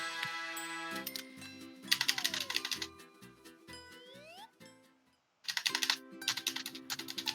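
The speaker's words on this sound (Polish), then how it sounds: "Przestań nawalać w klawiaturę, zaraz se komputer połamiesz." Rapid, heavy keystrokes hammered on a computer keyboard during an Overcooked session, in loud bursts separated by pauses and mixed with tonal game sounds, with a short near-silent gap before another burst of pounding.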